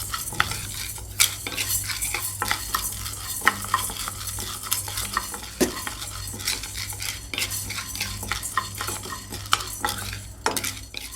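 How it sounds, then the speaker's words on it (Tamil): Urad dal being dry-roasted on slow flame in a pan, stirred steadily with a metal spoon that scrapes and clinks against the pan, loud and close, with dense rattling strokes and no talking. "உளுந்தையும் போட்டு நம்ம வறுத்துக்கணும்."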